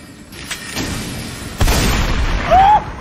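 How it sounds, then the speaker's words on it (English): A loud booming blast from combat in Elden Ring, thudding twice in quick succession and followed by a brief ringing magical tone, with a voice audible faintly. "It seems I have exploded."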